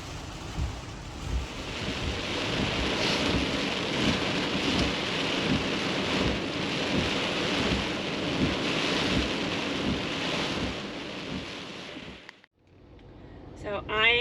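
Heavy rain roars steadily with rolling thunder during a huge storm in Key West, Florida, a dense continuous wash of loud downpour that suddenly cuts off near the end, followed by faint sound.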